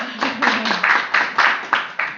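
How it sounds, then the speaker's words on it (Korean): Applause from an audience at a lecture: a burst of clapping from several hands, steady and close for about two seconds, with no talking over it. "박수 한번 부탁드립니다"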